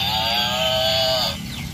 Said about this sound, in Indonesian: Suara sapi.